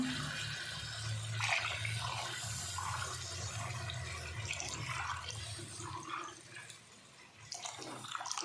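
Water is poured into a cooking pot for chickpea pulao with rice, a continuous splashing fill that fades and ends with a soft trickle.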